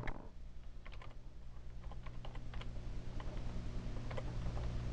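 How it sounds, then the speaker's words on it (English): Keys clatter in quick, uneven bursts as someone types a router address into a web browser on a computer keyboard. A steady low hum runs underneath the clicks throughout. "You just go into like a web browser and then just type it in."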